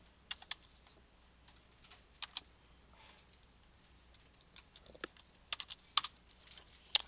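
A formula being typed on a computer keyboard, heard as sparse, close, quiet clicks and taps in short irregular bursts, with no voice over them.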